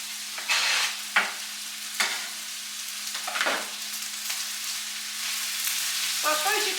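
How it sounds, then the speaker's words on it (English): Corned beef hash with onions, Worcester sauce, salt and pepper fries in a pan, a constant close sizzle punctuated by several scraping stirs, with no voices. "Just fry it all in the pan."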